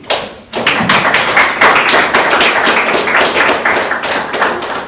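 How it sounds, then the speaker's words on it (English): A room full of people at a music theory conference applauds a speaker, with loud, dense clapping starting suddenly and holding steady for several seconds, close and sharp with no voices over it. "We have a round of applause for Jacob, please."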